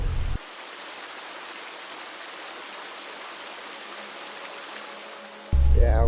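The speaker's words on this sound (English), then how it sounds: "There's a waterfall." A waterfall rushes as a steady, distant hiss of falling water, heard from inside a moving Dodge Cummins truck camper on a snowy road, with louder vehicle noise briefly at the start and end.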